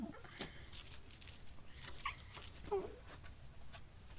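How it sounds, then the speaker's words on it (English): Faint, high-pitched dog whines come and go in short bursts over quiet background noise with light jangling. "my dog whining and periodically interrupting the quieter moments"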